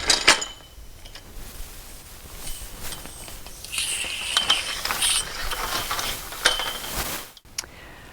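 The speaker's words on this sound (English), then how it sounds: "Now we need to run our net carriers down to the cleat end of the pole." PVC net carriers slide down a mist net pole fitted with a pulley rope, making close, faint ratcheting clicks and light plastic rattles that come in irregular bursts with no voices.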